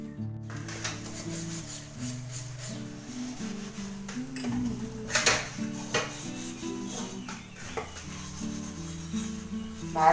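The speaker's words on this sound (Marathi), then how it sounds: "चला आवरूया भांडी." Metal pots, pans and utensils clatter and scrape while being washed by hand at home, a busy stream of clinks, rubs and knocks at moderate volume with no talk.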